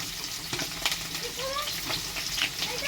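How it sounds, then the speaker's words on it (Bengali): Potatoes fry in a pan with a close, continuous sizzle broken by a few scraping stirs and light clinks, the sound busy and uneven over a short stretch. "চিকেনটা আমি এখানে আলুটা ভেজে নিচ্ছি"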